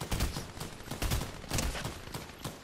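Rapid bursts of gunfire in Fortnite Chapter 4, repeated cracking shots in quick clusters, loud and continuous, with no talk.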